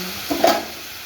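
A spoon scrapes once through a pan of Bengali bok fish jhal curry after water has been added. The single short stir stands out against a quiet, faintly bubbling background.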